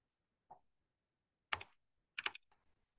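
A few sparse, quiet keystrokes on a computer keyboard while typing code, three or four separate clicks spaced apart with silence between, close up and without talk.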